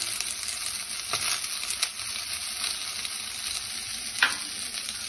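Peas frying in a pan with chili flakes and turmeric, giving a steady bright sizzle throughout with a few brief louder spatters and stirring scrapes.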